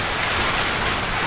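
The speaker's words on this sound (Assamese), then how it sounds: "ইমান ডাঙৰ ডাঙৰ বৰফৰ টুকুৰা ইমান ডাঙৰ ডাঙৰ বতাহ আহিছে" Dense rain pounds down during a storm with large hailstones and strong wind, a continuous loud hiss with no pauses or voices.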